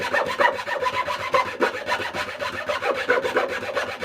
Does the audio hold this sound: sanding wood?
yes